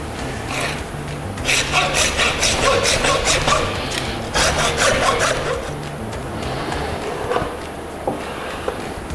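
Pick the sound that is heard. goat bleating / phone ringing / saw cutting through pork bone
saw cutting through pork bone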